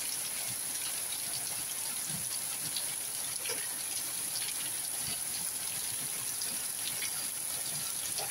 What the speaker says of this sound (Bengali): দেখুন খুব বৃষ্টি বেড়ে গেছে, আরও এমন বৃষ্টি পড়ছে, বৃষ্টিকালের মতন বৃষ্টি।